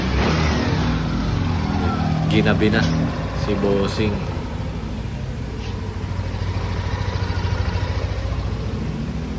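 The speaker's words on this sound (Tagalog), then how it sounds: "Napakaganda na ng tunog ng makina." A Yamaha Aerox scooter engine, freshly repaired, runs close by with a few quick revs early on before settling into a steady, even idle, while people talk over it.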